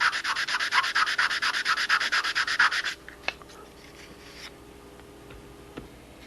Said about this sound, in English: Block sand that right in.